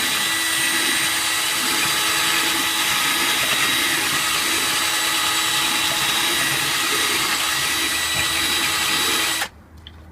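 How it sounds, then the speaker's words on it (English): A drill bit rocked inside a hole in a metal ammo box, a loud, continuous close whine that cuts off abruptly near the end. "I'll go back in and I'll rock my drill bit just a little bit to give it a little bit more of an opening"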